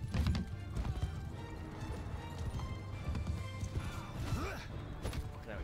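Horses gallop in a Mount and Blade II Bannerlord battle, a fairly faint, busy rumble of hoofbeats with clattering and scattered battle noise throughout.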